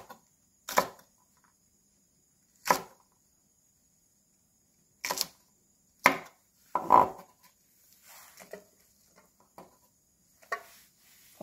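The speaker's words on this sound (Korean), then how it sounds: "청양고추는 이렇게 송송 썰어요." A knife slices Cheongyang green chili peppers into thin rounds on a cutting board, giving a few sharp, separate chops spaced apart and then a softer run of small cuts, close and clear with no talking.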